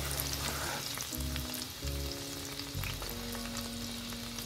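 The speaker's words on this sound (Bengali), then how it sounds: "অল্প অল্প করে ভেজে নেব।" Lentils for spiced dalmut sizzle steadily in hot oil over low heat, a continuous close frying hiss with faint stirring and low tonal hum from the stove.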